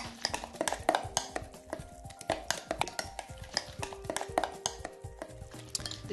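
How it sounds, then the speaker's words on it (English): A spoon stirs spinach raita with roasted cumin powder in a bowl, making a run of light clinks and scrapes in an irregular rhythm, close and moderately loud, with no talking. "And I'm going to give the whole thing a stir."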